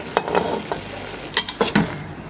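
Spices and green chillies are stirred into a frying masala for beef biryani, with a few scraping spoon strokes and clinks over a soft background sizzle and no talking.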